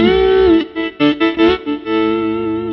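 A T-style electric guitar played straight through the amp, with amp distortion and no pedals, plays a short phrase of sustained, gritty notes, fairly loud and upfront with no voices.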